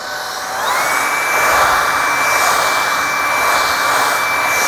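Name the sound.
Shark IZ362H cordless vacuum cleaning pet hair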